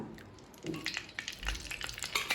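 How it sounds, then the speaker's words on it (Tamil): Soft bubbling sizzle of gulab jamun balls frying in oil, with small crackles and pops, fairly quiet and steady. "இப்போ எண்ணெயில் போட்டு பொரிக்க ஆரம்பிச்சிடலாம்"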